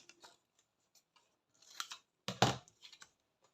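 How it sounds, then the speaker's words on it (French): Scissors snip through pink glitter paper in a quiet room: a few soft scattered clicks, then a louder crisp crunching cut followed by small trailing snips, close and intimate with no talking. "Mes ciseaux."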